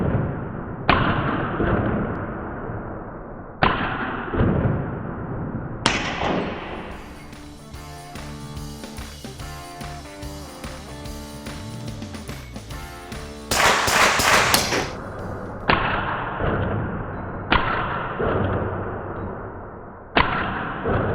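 A B&T USW Glock conversion fires a few spaced single gunshots outdoors, each a sharp loud crack with a decaying tail, a stretch of quieter mechanical noise in the middle, then more separate shots.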